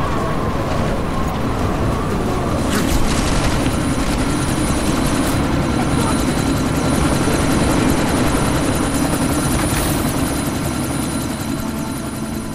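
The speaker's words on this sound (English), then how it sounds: "you need to disable that chopper" A helicopter in the video game Deus Ex: Mankind Divided, set in a sandstorm. Its steady, loud rotor drone holds throughout with a constant whine above, occasional whooshing gusts, and no talk.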